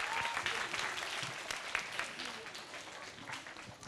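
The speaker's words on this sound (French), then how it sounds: "applaudissez encore fort pour lui" Studio audience applauding loudly and steadily in a French-language television dictation show, dense clapping with some voices and cheers mixed in throughout.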